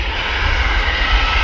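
An EasyJet airliner climbs away after takeoff, its jet engines giving a loud, steady low roar with broadband rumble that holds constant throughout, with no voices.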